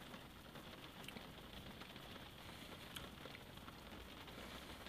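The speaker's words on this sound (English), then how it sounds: "it is raining here in Bradford, so that's the noise you're hearing" Rain falling outside in Bradford, a steady dense wash of patter with no distinct drops standing out, faint and even throughout, heard alone without talk.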